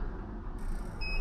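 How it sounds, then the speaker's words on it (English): A warning beep from the electric tailgate of a Toyota Alphard AH30, a clean high electronic tone arriving near the end over a low, steady background hum. "So if I press the tailgate switch, get 2 beeps"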